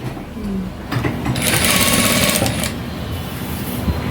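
A sewing machine stitching a boat neck dress, starting with a few short runs and then going into a steady fast whirring burst of stitching, close and loud, with no voices.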